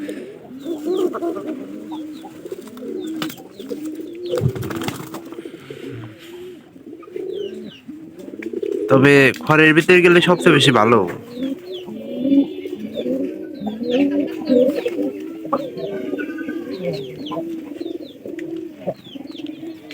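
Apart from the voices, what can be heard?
pigeons cooing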